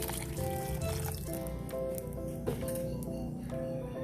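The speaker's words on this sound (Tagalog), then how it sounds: "Kaya magdadagdag tayo ng kalahating basong tubig." Half a glass of water poured into a simmering pot of misua noodle soup, a soft continuous liquid pour and splash close by, heard over a steady tonal background hum with no talking.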